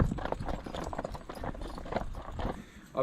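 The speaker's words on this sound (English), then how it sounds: "She is a Clydesdale cross cob, really nice little mare, does everything again." Hooves of a Clydesdale cross cob mare, a working horse, clip-clopping in a steady rhythm of close, moderately loud strikes that continue without pause.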